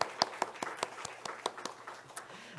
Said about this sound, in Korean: 우리 찬양대 또 우리 오케스트라에 우리 힘찬 박수 하겠습니다